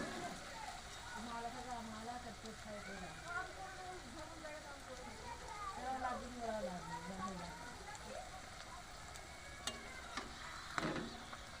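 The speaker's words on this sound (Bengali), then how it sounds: "বন্ধুরা, এইভাবে ডালপুরিগুলো এক এক করে ভেজে নেব।" Lentil-stuffed dal puri fry in hot oil, a quiet continuous bubbling sizzle heard under someone speaking, with a few sharp clinks near the end.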